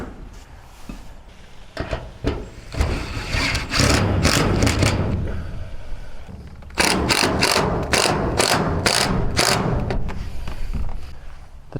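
A ratchet clicks in quick bursts while bolts are tightened on a metal building's roof arms, loud and close, with rapid pawl chatter between short pauses and a steady background hum.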